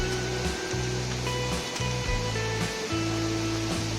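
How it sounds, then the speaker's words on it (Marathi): Water rushes and gurgles steadily, like a small stream flowing, with a low humming drone that rises and falls underneath. "छोटा ओढा लागलाय आम्हाला इथे"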